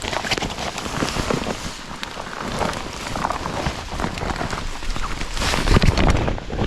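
Rain falling outdoors, a dense, steady close patter with no clear pauses, alongside faint rustling.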